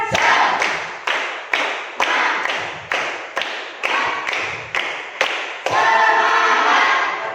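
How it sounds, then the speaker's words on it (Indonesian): A classroom of students claps in a fast rhythmic pattern, a series of sharp, loud group claps in quick bursts that ends in a longer run of clapping. "Tepuk semangat."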